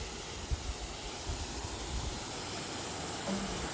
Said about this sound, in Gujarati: કેટલા પાણા જો ધોધ આવે છે.